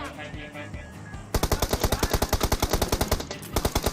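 Rapid automatic gunfire in the video game PUBG Mobile: a loud burst of evenly spaced shots that starts abruptly and keeps going over a busy game backdrop, with no talking.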